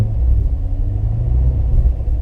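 Chevrolet C7 Corvette Stingray exhaust in sport mode in a parking lot, a steady deep low rumble of the engine held close and loud throughout, with no voices.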